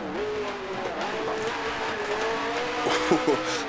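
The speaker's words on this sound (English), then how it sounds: "Downshifted to first a little too early there. Rear end stepped out, able to collect it." Grand Prix Legends race car downshifting into first, engine note dropping and wavering as the rear end slides out with brief tyre squeal, close and fairly loud with some voice underneath.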